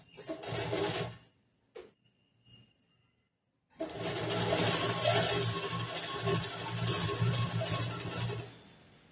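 A sewing machine stitching a half-inch seam on blouse fabric for a lined, bordered blouse: a short whirring run, a brief burst, a pause, then a long continuous steady whir.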